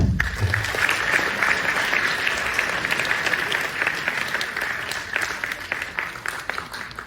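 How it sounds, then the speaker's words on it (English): Students in a packed lecture hall at an expert lecture on financial literacy give sustained applause, a thick, even wash of clapping that stays strong and then begins to thin and fade toward the end. "Clap for yourself."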